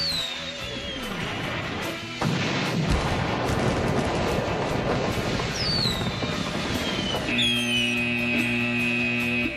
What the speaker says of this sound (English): Sweet and sour pork is a high-volume 9-shot aerial cake manufactured by Brothers Pyrotechnics.